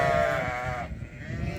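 A single sheep gives a close, clear bleat during a shearing-season count, the call fading out after about a second into low pen background noise.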